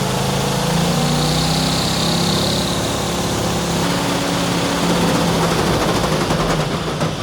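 A Mustang swapped with a 6.0 Powerstroke diesel engine that has thrown a rod is held on the rev limiter, a loud, close, continuous roar with rapid stuttering bounce against the limiter and no letup.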